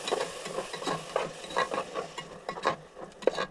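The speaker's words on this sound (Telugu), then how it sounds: "కొద్దిగా కసూరి మెంతి, 1 కప్పు పెరుగు. ఇప్పుడు అంతా మిక్స్ చేయాలి." Kasuri methi and a cup of yogurt are stirred into tomato masala for tomato kushka rice, heard as irregular wet scraping and squelching strokes of a spoon over a faint sizzle, close up, with no voices.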